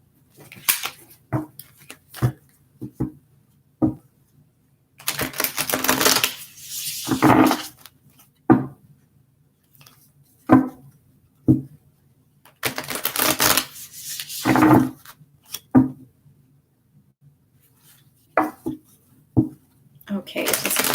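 Tarot cards are shuffled in repeated bursts of riffling and tapping, close and crisp, separated by pauses, with a voice speaking between some of them.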